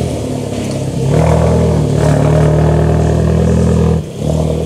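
A car on new Continental Sport Contact 7 tyres pulls out at an H&R trackday, its engine giving a close, steady drone that swells after the first second, holds, then dips briefly near the end.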